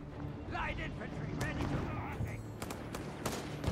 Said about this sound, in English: Mortar there hammering down here upon the position of the German troops.